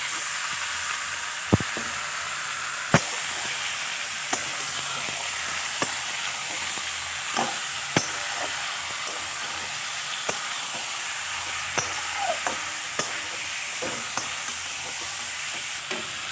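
Kadaknath chicken meat sizzles and fries in a pan with onion and garlic, giving a steady hiss broken by occasional sharp pops and scrapes of stirring, with no talk.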